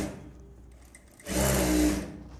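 A sewing machine stitches piping onto a blouse: after a quiet pause, one short burst of fast, whirring stitching runs for under a second, close and clear.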